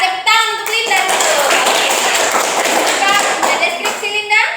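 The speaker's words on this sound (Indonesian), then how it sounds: "Tepuk tangan untuk Linda dulu" Classroom clapping for a student, a burst of hands mixed with thumps and children's voices, with talking layered over it.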